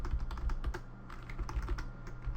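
Rapid, uneven clatter of keys being typed on a new computer keyboard during game coding, close and fairly loud, with no voices.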